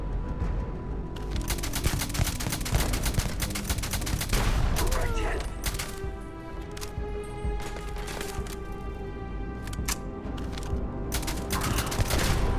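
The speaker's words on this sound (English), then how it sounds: "All it keeps doing is throwing grenades." Repeated grenade blasts and bursts of gunfire fill a Starfield firefight, with dense rattling shots and booming explosions running almost nonstop at close range, a few faint voice fragments buried under the noise.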